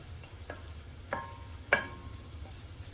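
Ingredients for chicken jalfrezi fry in a pan with a soft continuous sizzle. A few light stirring scrapes break through the sizzle at close range.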